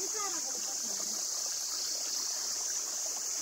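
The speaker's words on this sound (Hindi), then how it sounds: "ये जंगल से आ रहा है, ग्लेशियरों से पिघल के ये पानी आ रहे हैं" A mountain stream fed by forest runoff and melting glaciers flows with a steady, continuous rush of water, close and unchanging, with a faint high hiss above it.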